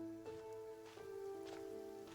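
Soft, steady rain hisses in the background of the game Genshin Impact beneath sustained humming tones, faint and even throughout.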